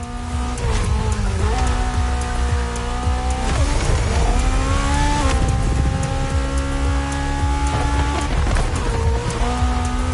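A Ferrari F50, the road-legal Formula One car, drives hard with a loud, close engine roar whose pitch sweeps up and down through several gear changes over about ten seconds, with no voices.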